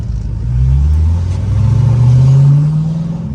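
A C5 Corvette with longtube headers on a test drive, its V8 exhaust burbling deep and loud up close as the engine note rises steadily under acceleration, no talk over it.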